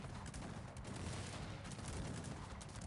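Rapid, continuous gunfire and cannon blasts from the strategy game Cossacks 3 crackle over a dense, steady battle din, with no clear pauses throughout.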